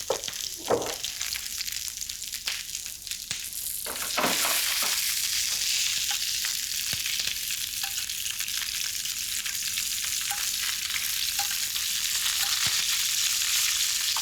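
Endives caramelizing in a pan of butter and olive oil give a steady, bright sizzle that settles into a constant frying hiss, with a few soft knocks and stirs early on.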